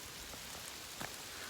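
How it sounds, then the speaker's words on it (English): Rain pours down outdoors at the start of a downpour, a soft, steady hiss with a few distinct drop taps, faint and continuous throughout. "There's a downpour that just started that's going to increasingly ramp up to something kind of significant."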